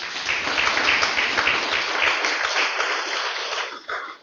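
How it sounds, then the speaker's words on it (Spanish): A church congregation applauds together in steady, dense clapping at moderate loudness, sustained throughout before thinning at the very end. "Denle un fuerte aplauso al Señor"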